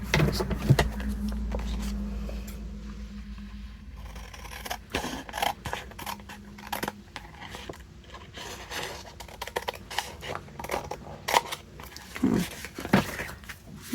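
Scissors trimming paper for a hanging envelope craft, with a series of crisp snips and rustles, some in quick clusters and others spaced apart, close by with no talking.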